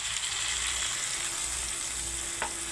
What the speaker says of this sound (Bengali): আমি এখন সামান্য জল দিয়ে দিচ্ছি।